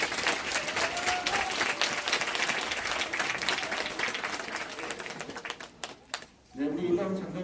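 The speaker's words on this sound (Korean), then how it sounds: "큰 박수 한번 부탁드립니다" Sustained applause from a large crowd at a military training center enlistment ceremony, dense rapid clapping that fills most of the clip before dropping off, followed by a voice speaking.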